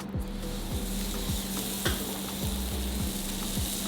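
Scallops sear on an oiled salt block with a loud, continuous close sizzle and crackle, plus a few faint regular ticks underneath, with no voices.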